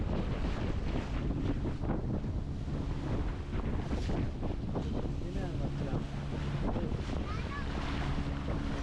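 A motorboat runs at about 40 km/h off Goa, heading toward a private beach, giving a continuous loud roar mixed with heavy wind buffeting and splashing water, with faint voices underneath.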